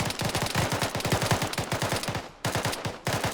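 Rapid, loud bursts of automatic rifle and machine-gun fire from soldiers in the military game Arma 3, near and continuous, with a couple of brief pauses between volleys.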